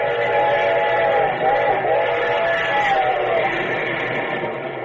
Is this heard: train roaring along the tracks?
yes